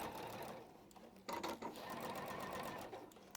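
A sewing machine runs fast, stitching through fabric past pins left in place, a steady whirring hum with a brief louder burst partway through, fairly close and clear.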